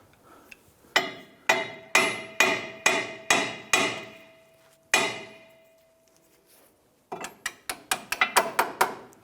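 Hammer strikes drive the lower bolt through the steering knuckle of a 2008-2013 Nissan Rogue, a run of seven sharp metallic blows, one louder ringing hit with a lingering tone, then a quicker burst of lighter taps, close and without talk.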